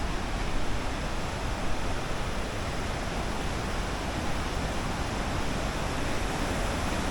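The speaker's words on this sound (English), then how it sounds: "you can see the falls coming down" Steady broadband roar of rushing water from Hidden Falls at Jenny Lake, Grand Teton National Park, heard from nearby, constant and unbroken with no voices.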